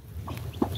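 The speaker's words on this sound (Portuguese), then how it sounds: "A galinha tirando os pintinhos." A hen gives soft, short clucks beside her newly hatched chicks on a farm, near and brief, with a few faint peeps and no talking.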